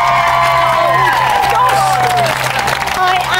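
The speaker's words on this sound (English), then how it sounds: "Give him a cheer, guys." Studio crowd on a Big Brother reality TV show cheering and whooping during a housemate's eviction, loud and continuous with clapping mixed in and a sustained tonal sound layered over the noise.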